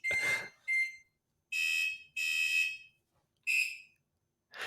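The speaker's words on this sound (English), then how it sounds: "Do I need to kill my application to stop the buzzer, or you stop it?" An electronic buzzer driven by a Raspberry Pi sounds a series of loud, shrill tones, some short and some held, separated by silent gaps.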